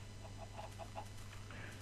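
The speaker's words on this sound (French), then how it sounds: "Voilà, regardez, il y a un régiment de poulets ici." Clucking chickens in the Minecraft video game, a handful of short soft clucks spaced across the clip over a steady low hum, fairly faint.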